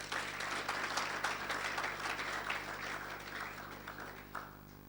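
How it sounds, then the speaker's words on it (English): A conference audience applauds after a talk on bridging the digital divide with privately driven ecosystem services, a steady wash of many hands clapping that holds evenly for several seconds before tapering. "I think they deserve a round of applause for that."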